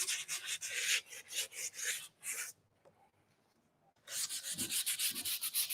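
Hard-dried DIY paint being distressed off an antique cabinet door with rapid rhythmic sanding strokes, close and scratchy, pausing briefly in the middle before resuming.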